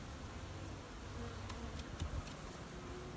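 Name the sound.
honey bees buzzing while harvesting honey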